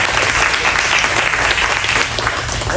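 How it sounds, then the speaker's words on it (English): An audience at a real estate investing seminar breaks into loud, sustained applause, a dense continuous clapping that holds steady throughout. "A round of applause."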